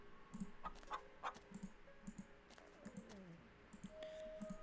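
A chicken clucks repeatedly in the horror game Scarlet Hollow, its short, faint bursts arriving in an uneven rhythm over quiet ambience, with some soft clicking mixed in.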